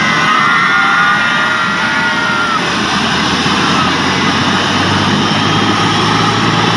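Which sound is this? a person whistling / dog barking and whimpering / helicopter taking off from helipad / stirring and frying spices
helicopter taking off from helipad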